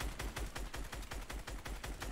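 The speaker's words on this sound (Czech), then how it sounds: "mě zase někdo střílí" Rapid automatic gunfire from a video game, steady bursts of shots in a continuous rhythm, loud and close, with no talking.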